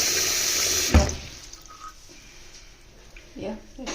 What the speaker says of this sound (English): It's really good water pressure.